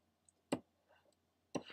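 Two sharp, isolated clicks about a second apart from a computer keyboard key being pressed, fairly close in an otherwise quiet room with a faint steady hum underneath.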